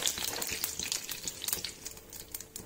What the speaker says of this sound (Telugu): ఆవాలు చిటపట అయిన తర్వాత మనం ఈ కరివేపాకు కూడా వేసుకుందాం పోపులో